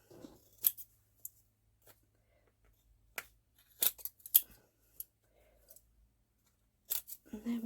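Scissors trimming a mixed media paper craft tag, a few short crisp snips scattered between quiet pauses, close and soft, with some faint paper handling.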